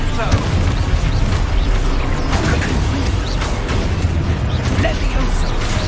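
Dense, continuous booming and crashing bursts of an Expulso explosion spell in a Harry Potter video game, loud and layered over a voice casting spells.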